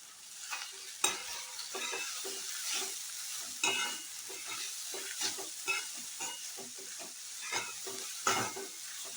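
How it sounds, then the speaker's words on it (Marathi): Grated potato fries and sizzles in ghee as a spoon stirs and scrapes the pan, giving a steady crackle with repeated sharp stirring knocks near the mic and no talking. "हा स्वच्छ धुतलेला बटाट्याचा किस हा सगळा घालायचा आहे आणि चांगला तुपात परतून घ्यायचा आहे"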